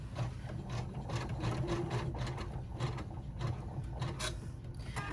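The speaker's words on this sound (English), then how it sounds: "I'm just going to back stitch again" A sewing machine back stitching while making a gamer bag, a quiet rapid run of mechanical ticks and rubbing clatter that carries on steadily, close up with no talking.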